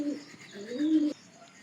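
A pigeon kept in a domestic loft gives a close, soft, throaty coo in two rolling phrases, alone with no voices, then falls quiet.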